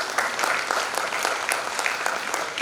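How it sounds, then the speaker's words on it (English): A steady round of applause for a guest speaker at a Model UN conference, many hands clapping evenly at moderate volume for a few seconds, with no speech over it. "Give her a huge round of applause"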